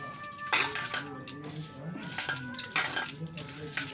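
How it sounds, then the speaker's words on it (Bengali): Salt, green chili and coriander leaves are stirred together in a metal bowl, giving irregular clinks and scraping taps of utensil against bowl, fairly close and moderately quiet, with no talk. "নুনটা লঙ্কাটা আর ধনেপাতাটা আগে মিশিয়ে নেব"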